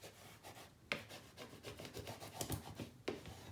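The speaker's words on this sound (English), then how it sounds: "making sure we burnish down" A burnishing tool rubs paper down firmly in a handmade mini album, making quiet, close scraping strokes in an uneven rhythm with a couple of sharper rasps.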